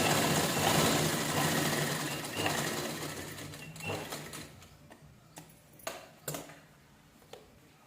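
A sewing machine stitches a blouse neckline, running steadily at first then fading into a few short bursts and clicks, close and fairly quiet.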